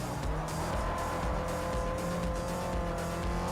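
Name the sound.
race car engine and tires in the video game Forza Motorsport 4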